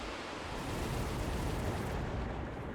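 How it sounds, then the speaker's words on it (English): A missile lands and explodes in the strategy game Mechabellum, a loud, steady roaring blast that rumbles on for a few seconds without a pause. "This missile actually lands."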